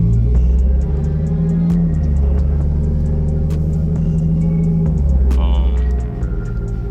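A lowered Lexus rolls along slowly with a deep, steady engine rumble and hum close by, a low throbbing drone under a faint rhythmic ticking, with no talking.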